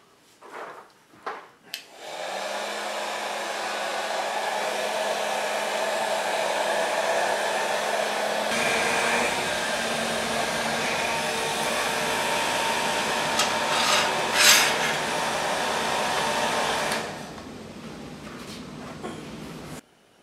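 A heat gun heats a panel for the rear of a 1929 AV8 coupe build. After a few clicks it starts up, blows with a steady, loud whir for about fifteen seconds, then switches off.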